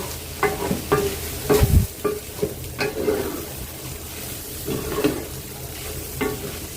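A spiced filling being stirred and fried in a pot gives a soft sizzle under irregular scrapes and knocks of the spoon against the metal, close by, with no talk.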